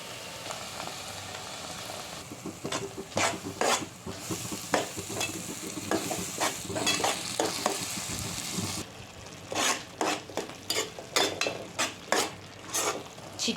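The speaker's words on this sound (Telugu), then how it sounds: "ఇప్పుడు టొమాటో ప్యూరీని యాడ్ చేసుకుందాం." Tomato puree sizzles and fries in a hot pan for rajma curry while a spoon stirs and scrapes against the metal in repeated strokes, close and fairly loud, with a brief pause before the stirring resumes.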